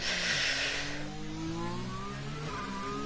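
Formula 1 car engine in a racing game on the Azerbaijan circuit, revving hard through the gears with a steady high whine that climbs in pitch, heard alone at moderate loudness.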